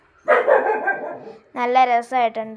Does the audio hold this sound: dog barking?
yes